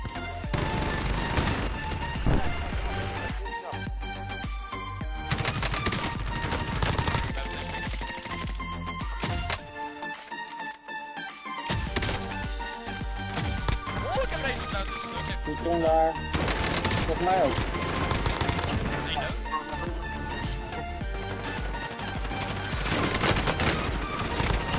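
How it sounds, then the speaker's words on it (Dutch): Shotgun and other gunfire in a video game firefight, dense bursts of loud shots and rapid fusillades throughout, with voices talking over the action. "Deze shotgun schiet alles mis."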